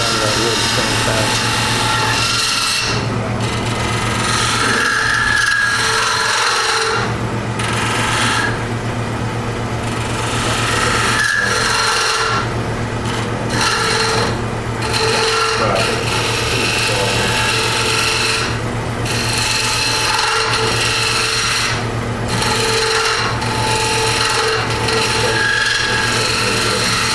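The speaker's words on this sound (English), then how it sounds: "You can tell by the sound of that wood it's coming fast." Wood turning a two-piece hollow form on a lathe gives a continuous loud rasping, scraping hum with a steady low drone, while cutting sounds rise and fall throughout.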